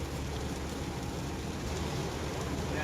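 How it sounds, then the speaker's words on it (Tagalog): Heavy rain drums steadily on a moving car while it drives along the Skyway near Merville, Parañaque, in a dark downpour, a dense continuous hiss with low road rumble and no talk. "Lakas sa ulan, no?"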